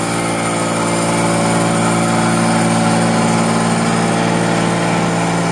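A Farm King Model 60 hammer mill runs steadily, a loud continuous mechanical drone with a strong low hum and bright grinding overtones, with no pauses and no voices.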